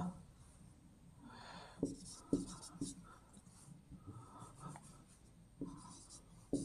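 Writing on a board during an English grammar lesson in a classroom: scratchy strokes in short bursts with brief pauses between them, fairly quiet, over low room murmur.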